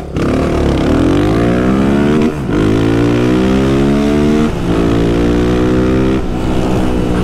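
A Honda Twister motorcycle, 250 or 300 cc, revs hard and accelerates through the gears, its loud engine note climbing repeatedly, close and continuous with short dips at each shift.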